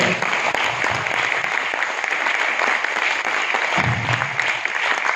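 Loud, dense audience applause fills a corporate event honoring a company chairman, sustained and steady throughout with no break.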